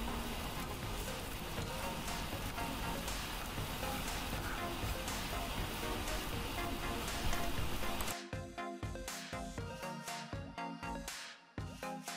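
Pineapple seafood fried rice sizzling in a hot pan, a loud, continuous crackle and hiss for about eight seconds, then quieter with rhythmic scraping and stirring bursts.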